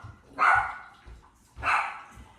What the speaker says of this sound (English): They always bark at the mail truck.